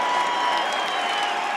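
Minnesota home crowd at a college wrestling national duals final, a steady roar of cheering and applause from a packed arena, loud and continuous throughout with no clear talk on top.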